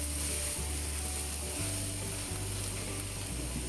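Wheat gluten braises in soy sauce braising liquid, reducing until dry, with a steady loud sizzle and bubbling over a constant low kitchen hum, with no one talking.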